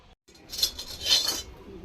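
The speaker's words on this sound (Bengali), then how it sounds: "আলু ভর্তা বানানোর জন্য আমি কড়াই বসিয়ে দিলাম উনুনে" A metal kadai is set down on a kitchen stove while aloo bharta is being prepared, giving two or three light metallic clinks and knocks close by against quiet background noise.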